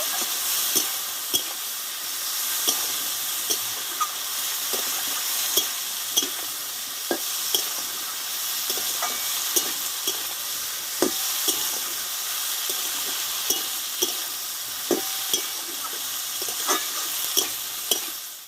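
Neem leaves frying in a pan for a Bengali bitter dish give a constant loud sizzle, with regular sharp spatula taps and scrapes as they are stirred, close by and with no talking.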